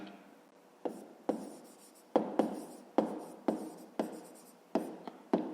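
Pen or pencil writing by hand on paper while working a fifth-grade maths exercise, a series of about nine sharp scratchy strokes in an uneven rhythm, close and fairly quiet.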